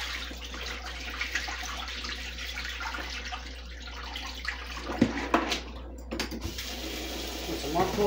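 Cold water runs from a kitchen tap into a pot on the stove, a steady broadband splashing rush held through most of the stretch, with a few clattering bumps midway and faint room noise beneath.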